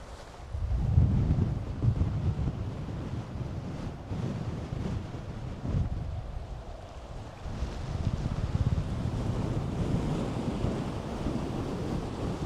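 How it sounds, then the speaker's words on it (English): Strong wind by the sea at Cockle Creek, Tasmania, gusting heavily across the microphone in a continuous rough roar, with surf-like rushing beneath and no talk. "I'm getting blown back here. She's a bit too windy."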